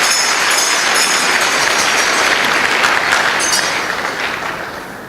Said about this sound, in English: Please clap for yourselves. Clap for yourselves.